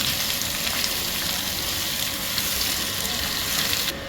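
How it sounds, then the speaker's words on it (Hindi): Ivy gourd (kundru, tindli) pieces fry in hot oil for a curry, giving a steady, dense sizzle that runs loud and unbroken throughout with no voices. "फ्राई करके हम इसे निकाल लेंगे"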